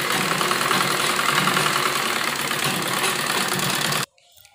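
A sewing machine stitches a kurti in a fast, even mechanical whir that runs steadily for about four seconds, then stops abruptly, leaving near silence.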